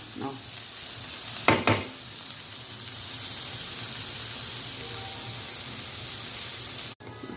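Bitter gourd frying in a pan, a steady close hiss and sizzle throughout with two brief stirring clatters early on, no talk.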